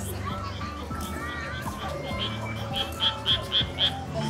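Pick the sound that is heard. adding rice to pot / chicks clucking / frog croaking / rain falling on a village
frog croaking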